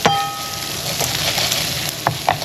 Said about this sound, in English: I'm going to go ahead and throw my orzo in here with my asparagus and garlic